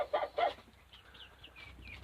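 Chickens cluck softly in a calf pen on a farm, a couple of brief close clucks followed by fainter scattered chirps, with no talking.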